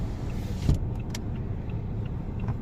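Cars passing on a road in rural Isan, Thailand, a continuous vehicle rumble with a brief louder thump near the start, moderately close and fairly steady throughout.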